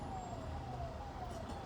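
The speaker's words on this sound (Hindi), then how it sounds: "ये देखो भाई साहब, सायरन बजाती हुई जा रही है।" A police van siren passing along a street in Virendra Nagar, a faint wavering tone over steady traffic and engine rumble, heard from a short distance.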